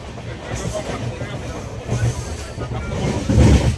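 Inside a moving passenger train in West Bengal, a low continuous rumble of the carriage underlies nearby passengers' chatter, swelling louder toward the end.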